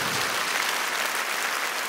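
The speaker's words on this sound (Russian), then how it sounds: "Я под ваши аплодисменты приглашаю нашего любимца" Steady, dense applause from a concert audience in a large hall, a uniform wash of many hands clapping with no voices over it.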